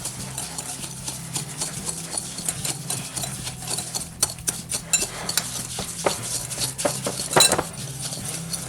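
Sugar being stirred with a spatula so it dissolves, for a custard tart, giving a steady run of scraping and clinking strokes against the pan with a few sharper knocks and no talk.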